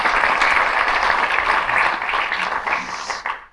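Audience applause at a sports team presentation for junior and national players, a steady, dense wash of clapping that holds loud and then tapers off at the end.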